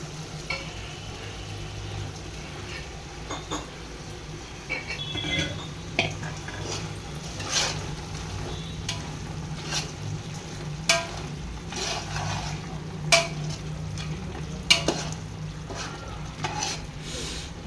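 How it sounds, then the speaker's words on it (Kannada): Ground masala fries with mutton in a large pot for Mandya-style biryani, a low steady sizzle broken by repeated sharp scrapes and clinks of a ladle stirring against the metal. "ಮಸಾಲೆ ಹಾಕ್ತಾರೆ ಇವಾಗ ರುಬ್ಬಿಟ್ಟಿದ್ದು ಮಸಾಲೆ"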